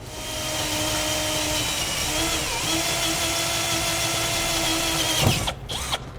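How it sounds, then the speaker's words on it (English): A power drill with a 3/8 inch bit whines steadily at high speed for several seconds, then winds down and stops with a couple of brief revs at the end. "we'll drill those out with a 3/8 inch drill bit"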